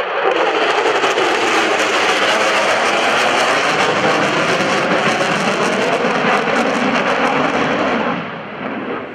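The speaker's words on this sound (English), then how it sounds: "Here comes the F-16 Fighting Falcon from your United States Air" A US Air Force F-16 Fighting Falcon roars past at a Naval Air Station Oceana airshow, a loud, sustained jet rush that holds for several seconds before tapering off at the end.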